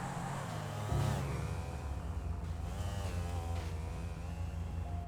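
Car engine in the GTA video game, idling and then revving up in a few rising and falling surges, with a sharp bump near the start and a steady mid-level hum between.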